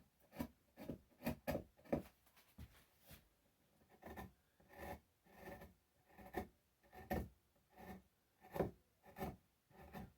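A hand gouge carves cottonwood in a series of quiet, rhythmic rasping strokes. Each short scrape is followed by a brief pause, close and alone with no talking.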